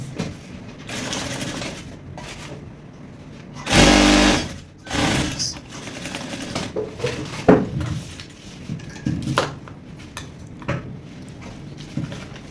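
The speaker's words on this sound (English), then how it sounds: "Then I'm going to sew on 1 inch straight down. just like this." A sewing machine stitches a short straight seam on an Ankara palazzo pant pocket, a loud close burst of motor whir amid intermittent clatter and handling knocks.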